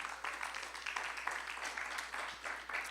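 A church congregation claps in praise to the Lord, with quiet, irregular bursts of handclaps that rise and fall over a few seconds.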